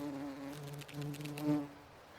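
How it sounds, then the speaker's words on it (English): A bee buzzing steadily as it flies into drooping pinky-red foxglove flowers, a close, low continuous drone that wavers slightly. "There's a bee"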